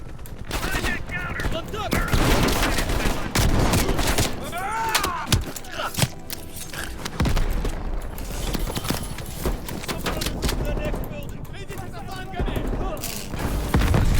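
Dense bursts of gunfire in Call of Duty: Black Ops Cold War, rapid automatic fire and scattered booms coming thick and loud throughout, with voices talking over the shooting.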